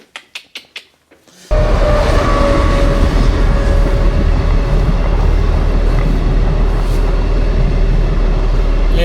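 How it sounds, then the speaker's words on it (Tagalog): After a few sharp knocks, a train suddenly roars past close by and keeps rumbling loudly with rolling wheel noise and rattling carriages for the rest of the clip. "Ayan yung train dito."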